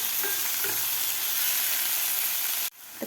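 Spring onion greens fry in hot oil with a loud, steady sizzle and hiss and occasional stirring scrapes, cutting off abruptly near the end.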